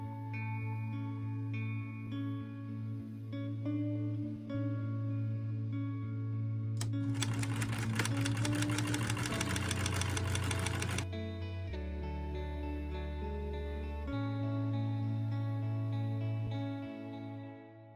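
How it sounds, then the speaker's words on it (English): A sewing machine stitches fabric together, its steady hum joined midway by a burst of rapid mechanical stitching clatter, then settling back to lower tones, with no talk. "So I'm going to start sewing this together and see how it goes."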